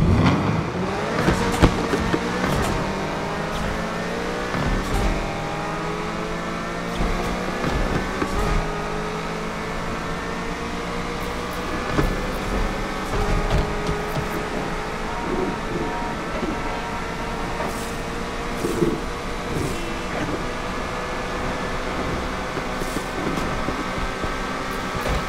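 A 2.9 liter V8 swapped into an Acura RSX in Need For Speed Unbound revs hard and steadily for a long stretch, the engine note climbing and shifting through gears at close, loud range with no pauses.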